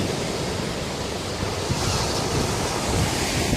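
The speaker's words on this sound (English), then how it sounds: "Relaxing waves." Sea waves washing onto a beach, a steady broadband surf roar with gentle swells, mixed with some wind noise on the microphone and no talking.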